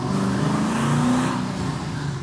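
A twin-turbocharged Camaro SS bought at auction, a test development car, accelerates hard into boost, its engine rising in a loud, continuous roar close by with turbo whoosh layered over the exhaust note.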